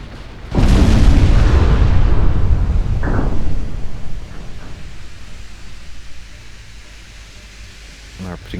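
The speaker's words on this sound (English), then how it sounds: "are putting rounds into the belts of the enemy battlecruisers" Heavy naval guns fire on enemy battlecruisers in the naval warfare game Ultimate Admiral Dreadnoughts. A loud, deep boom hits at once and rolls on, a second blast follows a few seconds later, then the rumble fades into a quieter background.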